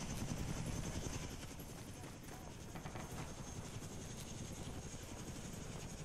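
A helicopter in the video game Arma 2 drones with a steady, dense rotor chop, loud and constant throughout.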